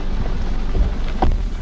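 Rain pours steadily in Moscow, a loud, dense, unbroken hiss with a low rumble underneath and no voices.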